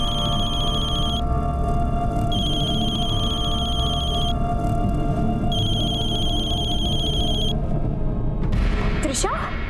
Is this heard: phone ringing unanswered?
yes